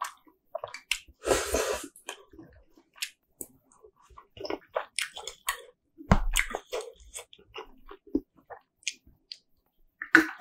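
Close, intimate eating sounds of rose sauce tteok-bokki: soft squishy, sticky chews and wet mouth clicks in irregular bursts, with a louder rustle near the start and occasional sharper smacks, quiet between, no talking.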